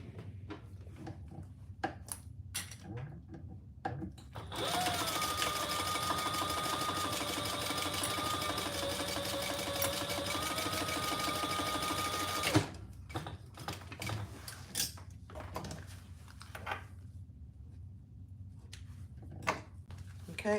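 Sewing machine stitching fabric pieces together, running in one steady whirring burst of about eight seconds, with quieter handling clicks and fabric sounds before and after.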